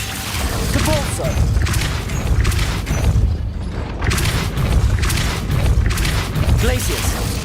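Depulso force spell cast repeatedly in Hogwarts Legacy, dense booming thumps and crunching impacts with mechanical creaks in a continuous loud game mix, a voice speaking over it.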